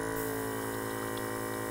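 Cleaning liquid back-bubbling inside the paint cup of a JULIA airbrush, a steady continuous gurgling and fizzing hiss with a constant low hum underneath, close and unbroken with no talk.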